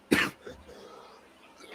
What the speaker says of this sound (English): I still haven't kicked this cough